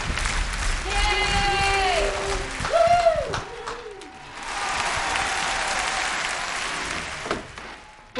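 Studio audience applause for a guest on a children's television show, a steady patter of clapping joined by whistled and hooting cooing tones, with a pause partway and a voice near the end.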